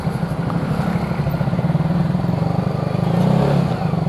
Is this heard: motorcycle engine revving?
yes